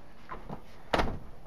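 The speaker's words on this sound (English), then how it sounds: "Okay, this is going out our front door." A house's front door is opened, heard as a single clunk of handle and latch and a short rattle against faint background noise, with no one speaking.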